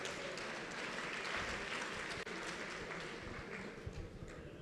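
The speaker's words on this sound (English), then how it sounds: "Can you clap your hands if you understand it?" A room of conference attendees clapping together after an invited talk, a steady dense patter of many hands that holds for several seconds at moderate level without voices.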